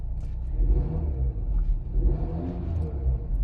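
An Emzoom R Style car with no muffler revs, giving a deep, loud rumbling exhaust drone that swells and eases slightly, heard close with no talking.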